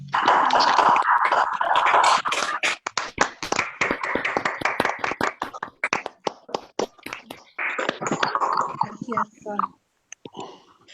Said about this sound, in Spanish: les damos un aplauso de gracias